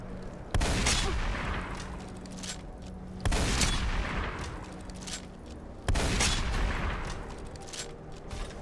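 Bursts of gunfire from a modded Skyrim game, three loud volleys a few seconds apart, each a dense rattle of shots decaying into a noisy tail, with no talking.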